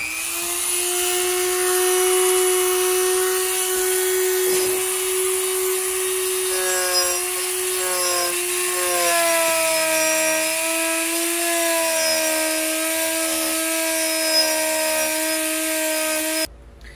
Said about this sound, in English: sometimes you wanna grind it smoothier so you have a better surface for welding